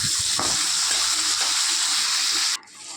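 Onion frying with tomato in a pan, a continuous loud sizzle that drops off abruptly near the end.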